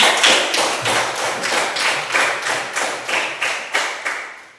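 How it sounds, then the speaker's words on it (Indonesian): Rhythmic unison clapping from a classroom audience of students, a steady run of sharp, evenly spaced claps repeated about twice a second, close and loud, with no talking over it. "Tepuk tangan untuk Beatrice"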